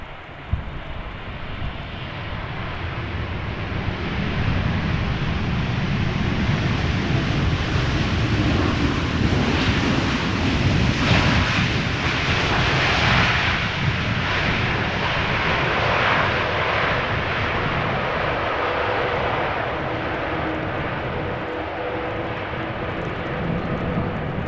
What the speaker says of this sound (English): KLM Flight 741 arriving from Cartagena,